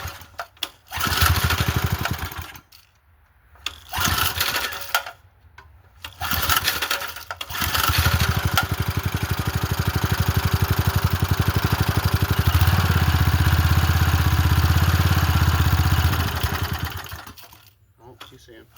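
A 1993 MTD lawn and sidewalk edger, its small engine pull-started in a few short rough bursts, then catching and running loudly and steadily for about ten seconds before cutting out, with speech between pulls.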